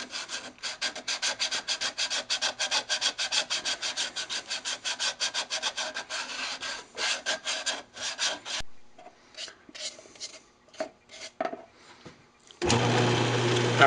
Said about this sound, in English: I'm just going to sand up the edges right here by hand.